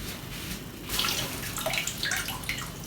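Tap water runs steadily into a kitchen sink while hands are washed during home cooking of stuffed vegetables, a close continuous splashing hiss with uneven wet spatters and no talk.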